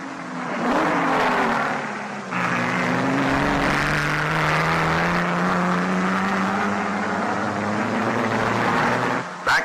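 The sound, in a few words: vintage race cars racing, Jaguar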